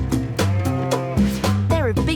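Sheep standing behind a gate bleat several times in a row, close and fairly loud, with wavering drawn-out calls and short gaps between them.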